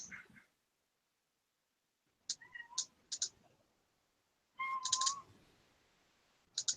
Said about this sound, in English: Is that a kitty?